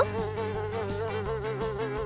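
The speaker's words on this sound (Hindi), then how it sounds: "इतनी बड़ी मक्खी मेरे पास मत आना" A large housefly buzzing close by in a steady, wavering drone that rises and falls slightly in pitch as it hovers, loud and continuous with no talking.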